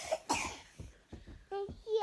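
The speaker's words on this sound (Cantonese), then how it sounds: "因為佢依家有少少咳啦" A young child coughs several times in short, uneven bursts indoors, close to the microphone, with brief childish vocal sounds near the end.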